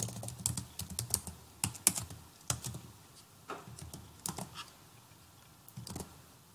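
Someone types a name on a computer keyboard while filling in a contract form: sparse, irregular clusters of crisp key clicks, close and fairly quiet, with short pauses between bursts.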